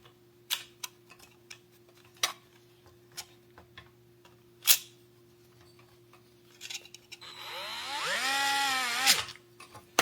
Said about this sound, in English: take this plate that you have the fader out now and screw it